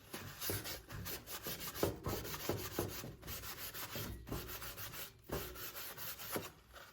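A scrubby brush scrubs grease off a stove top, producing quiet, repeated rasping strokes in an uneven back-and-forth rhythm, heard close up with brief pauses between passes.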